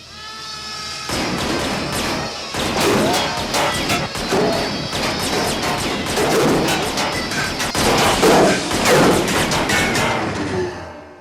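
A Merwin Hulbert revolver firing .44-40 rounds outdoors, with loud, sharp shots that come fast and repeat through most of the clip, each crack followed by a ringing tail.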